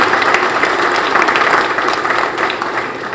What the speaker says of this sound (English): Give yourselves another big round of applause for everything you do.